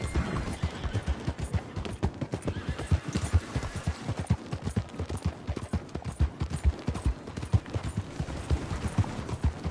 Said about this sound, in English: Remember to rest that horse sometime.